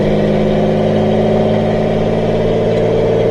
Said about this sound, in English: this is the actual sound of the engine going through the muffler at the back.